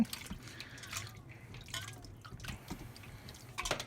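Cold water runs over udon noodles as they are rinsed by hand, a steady close trickle broken by irregular drips and splashes, with brief louder splashing toward the end.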